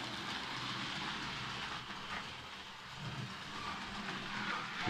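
A 3D-printed model EU07 electric locomotive running along its track, a steady close rumbling and whirring of the small motor and wheels with faint rhythmic clicking.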